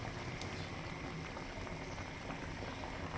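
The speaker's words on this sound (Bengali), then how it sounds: "জলগুলো ফুটে এসেছে, মাছগুলো এবার ছেড়ে দিচ্ছি।" Water boils steadily in a pot as pieces of rohu fish are added, giving a soft, continuous bubbling that stays faint throughout.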